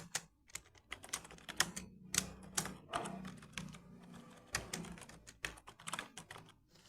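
Quick, uneven bursts of typing on a computer keyboard during data entry in Tally accounting software, with close, crisp keystrokes and short pauses.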